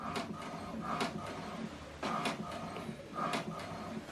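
An HP Deskjet printer running an alignment page, its mechanism whirring steadily with repeated sharp bursts as the print carriage sweeps back and forth, close and moderately loud with no talking.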